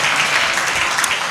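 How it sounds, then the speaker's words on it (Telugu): A church congregation at a worship service claps loudly and steadily in praise, a dense, continuous wash of hands that holds at an even level from start to finish. "గట్టిగా చప్పట్లు కొడుతూ యేసయ్యకి మహిమ చెల్లిద్దామా."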